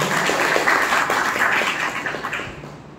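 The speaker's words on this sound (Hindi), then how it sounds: "तो एनडीएस के लिए जोरदार तालियां बजनी चाहिए।" An audience breaks into applause, a dense burst of clapping that is loud at first and then tapers off over a few seconds, with no speech.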